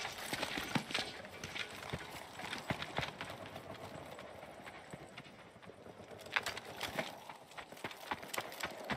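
Donkey hooves clip-clop in an irregular run of sharp knocks, close and fairly loud, under a noisy outdoor backdrop in a Somali street combat setting.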